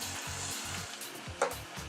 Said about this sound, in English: deep frying them until they're golden brown